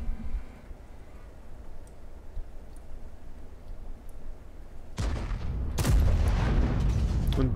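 A tank shell fired in World of Tanks strikes as a sudden loud blast after several seconds of low engine rumble, leaving a crackling, rumbling aftermath.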